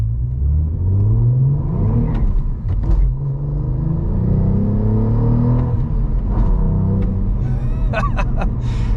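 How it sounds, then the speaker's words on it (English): A 2024 Cadillac CT4-V Blackwing Arrival Edition with a 6-speed manual launches in first gear, the engine note rising loud and close in climbing pitch before a shift, with brief tire chirps near the end. "I'm simply just going to easily let out the clutch in first gear."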